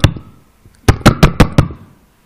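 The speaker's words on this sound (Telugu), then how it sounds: "ఒకడొచ్చి తలుపు కొడతాడు" Knocking on a door: one knock, a pause, then a quick series of five loud, sharp raps close by, with no talking.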